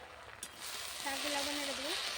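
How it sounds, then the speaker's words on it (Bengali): Water spinach fries over a clay stove with a dried-chilli, garlic and onion tempering, making a soft sizzling hiss as it is stirred in the pan. A brief wavering tonal hum rises partway through. "শাকগুলো আবার নেড়ে দেবো।"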